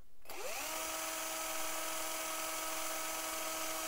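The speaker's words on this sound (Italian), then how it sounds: "avviamo l'avvitatore che è alimentato dall'alimentatore da banco" A cordless electric screwdriver, fed from a bench power supply, spins up after a brief pause and then holds a steady, high-pitched motor whine, close and continuous to the end.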